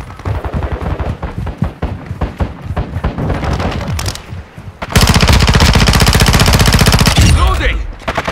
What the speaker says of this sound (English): This gun has got so much recoil.